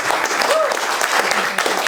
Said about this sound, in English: I want to give a big round of applause for Dr. Anabel Ford.